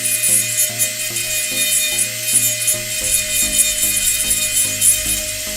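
A high-speed rotary carving tool grinds wood into fine dust with a steady, loud, whining buzz. Rhythmic scraping pulses run under it as the bit works the surface.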